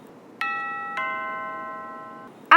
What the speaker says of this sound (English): Just then, the doorbell rang